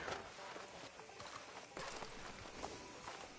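A horse's hooves clip-clop in a steady walking rhythm in the Red Dead Redemption video game. The hoofbeats sound faint and distant over a low background wash.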